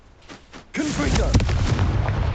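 Loud explosion from the Confringo spell in the video game Hogwarts Legacy, a sudden blast followed by crackling debris and rumble, with a voice in the game and quieter effects before the blast.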